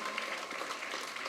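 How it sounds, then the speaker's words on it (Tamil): Steady applause from an audience at a DMK political stage event, with no single standout claps, running evenly and moderately loud throughout. "இந்த கைத்தட்டல் போதாது, இது போதாது போதாது போதாது"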